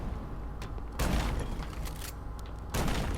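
Gunfire rings out while enemies are shot in Batman: Arkham Knight, with sharp, loud bursts of shots landing at uneven intervals over a dense bed of rumbling action noise.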